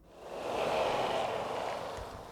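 Dry shower curtain impact with reverb and Slapper turned off: a soft, broad whooshing rumble that swells and fades over a couple of seconds, quiet and alone.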